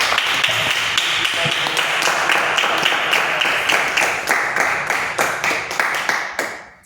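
A church congregation applauds in dense, sustained clapping that stays loud and even, then thins and fades over the final second.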